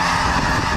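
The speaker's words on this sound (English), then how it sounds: "now that the geese have taken off" A dense flock of geese honks loudly and continuously at Bosque del Apache National Wildlife Refuge, many overlapping calls forming a thick, close wall of sound.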